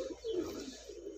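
Pigeon cooing, from a closely paired flying breed kept for aerial performance, heard as soft, low repeated coos close by across a short stretch, with no talk over it.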